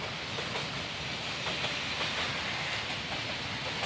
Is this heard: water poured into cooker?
no